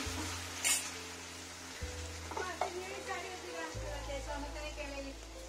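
Garlic-ginger paste and green chillies sizzle in hot oil for Indian-style Chinese noodles, a steady close frying crackle with a few stirring scrapes and a low hum underneath.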